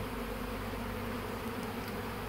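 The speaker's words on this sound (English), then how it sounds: "We've got a swarm coming in from some of my hives over there" A swarm of honey bees from nearby hives settles in a steady, dense buzz that fills the air evenly throughout, with no voices.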